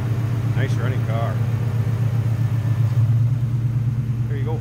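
Supercharged V8 of a 2001 Ford Mustang Saleen S281 coupe runs at a steady, close idle with an intercooler fitted, a low rumble that holds level throughout while a voice speaks briefly over it.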